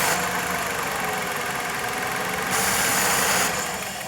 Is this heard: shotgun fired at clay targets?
no